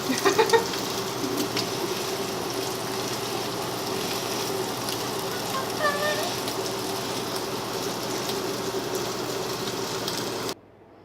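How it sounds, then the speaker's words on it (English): Chorizo, sausage patties and bacon frying in a pan give off a steady, rain-like crackle and hiss that goes on without a break and then stops abruptly at the end. "we've just finished cooking our chorizo, sausage patties, and our bacon"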